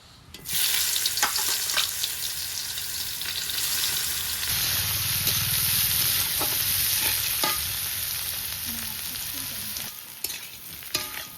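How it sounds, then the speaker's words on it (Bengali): Loud, continuous sizzling of young jackfruit frying in a pan, with scraping and stirring sounds throughout and no talking. "দেখুন ইঁচড়টা এখন আমি ভেজে নেব।"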